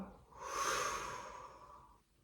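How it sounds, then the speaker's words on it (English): A single long breath during an ab workout, a soft rising and fading airy exhale lasting about two seconds, close and alone. "Exhale as we round. Inhale as we extend."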